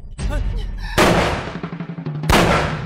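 Two loud, sharp gunshot blasts about a second apart ring out, each with a long decaying tail, in a period action drama scene.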